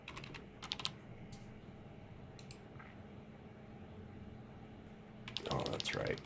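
Someone types one-handed on a computer keyboard, with sparse, uneven key clicks giving way to a busier clatter of keystrokes near the end over low room noise.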